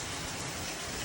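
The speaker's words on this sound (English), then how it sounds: "we're actually catching the rain at the perfect time with the ears and everything." Steady rain falls on a cornfield whose ears are already grown, a dense, even hiss of drops that fills the whole moment without pause.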